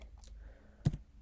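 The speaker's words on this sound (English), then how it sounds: "So I'm just gonna type, let me make it really small" Typing on a computer keyboard, a couple of faint soft clicks followed by one sharper keystroke, quiet and close with no talking.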